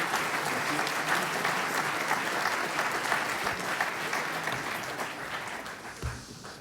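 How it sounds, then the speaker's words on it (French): A conference audience at an architecture event claps for the speakers, a steady medium-density round of applause that gradually thins toward the end. "vous pouvez les applaudir"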